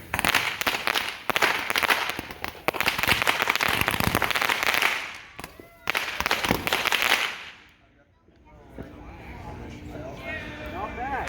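Fireworks and firecrackers at a Fourth of July backyard show, a rapid crackling barrage of loud close bursts that pauses, flares again, then fades to quieter distant pops, with people talking throughout.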